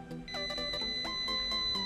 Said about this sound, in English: I will hook up this buzzer to the output.